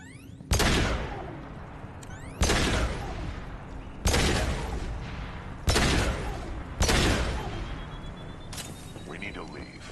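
Five heavy gunshot blasts from shooting in the video game Mass Effect 2, spaced about two seconds apart, each loud and booming with a long ringing tail, over a low rumbling game soundscape.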